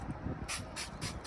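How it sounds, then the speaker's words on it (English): Alloy wheel cleaner is sprayed onto the dirty hydro alloy wheels of an auction-bought Volvo V40, three short, sharp hissing bursts at a steady pace, close and clear over quiet background rumble. "let's give them a spray"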